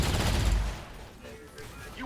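A loud burst of gunfire aimed at an alien mech in the XCOM Long War video game, a dense roaring volley lasting under a second that then fades into quieter game ambience.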